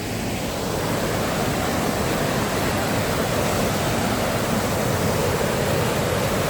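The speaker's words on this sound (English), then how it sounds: "It's a lot of power with this waterfall." A powerful waterfall roars in a dense, unbroken rush of white noise, loud and close, steady for several seconds with no other sounds standing out.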